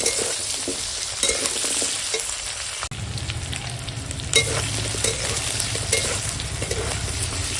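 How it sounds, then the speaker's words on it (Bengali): Pumpkin and potatoes frying with ginger garlic paste in a pan, a steady close sizzle with the scrape and stir of a spatula throughout, and a brief clack partway through. "এখন সব একসঙ্গে ভাজবো"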